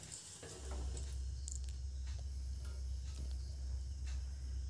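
Rice flour jhuri frying in hot oil over a low flame makes a soft, continuous sizzle with a low steady hum underneath and a few light scrapes, fairly faint and without voices.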